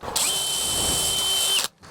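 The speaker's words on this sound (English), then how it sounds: "Then what I'll do is I'm gonna come down and pre-drill." Power drill pre-drilling into a brick wall for mounting shutters, one loud steady high whine that starts abruptly, holds for about a second and a half, then cuts off cleanly.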